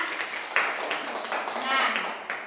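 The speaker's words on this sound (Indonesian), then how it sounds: "Tepuk tangan buat kelompok bertelur." A classroom of students claps for a winning group, scattered light claps under a teacher's voice, fairly close and uneven in rhythm.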